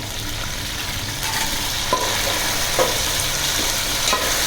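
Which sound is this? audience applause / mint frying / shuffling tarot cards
mint frying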